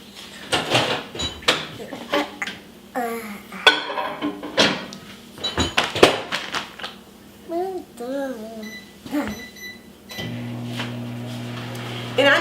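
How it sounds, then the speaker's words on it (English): A microwave oven is opened and run to heat meatballs for spaghetti in a home kitchen, with clunks of the door, beeps and a steady hum near the end, amid a child's chatter and adult talk. "And then we'll pop these in the microwave."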